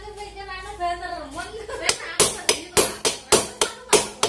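Hammer taps on a ring against a scooter's rear gear part, about eight sharp, evenly spaced metallic knocks following a man's speech at the start.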